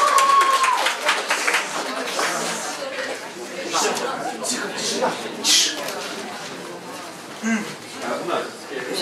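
An audience at a stage show claps and cheers to welcome the performer Alexander Dmitrienko, with steady, moderately loud applause and scattered crowd chatter over a few seconds, partly under a voice speaking.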